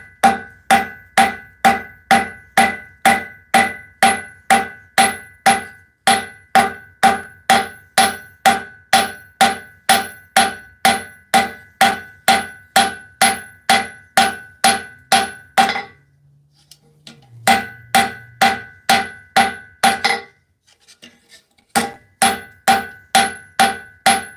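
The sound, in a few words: hammering metal in a forge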